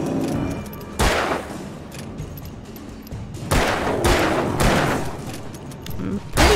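Gunshots in Alan Wake, several loud separate blasts spaced a second or two apart with ringing decay between them, amid game ambience and some speech.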